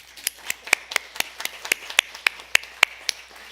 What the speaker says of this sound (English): So let us go ahead and give these sisters a round of applause.